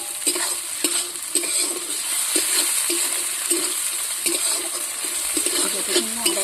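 Ginger-garlic masala fries and sizzles in a pan for fish curry while a spoon stirs it, scraping in repeated strokes over a steady crackle, with faint talk in the background.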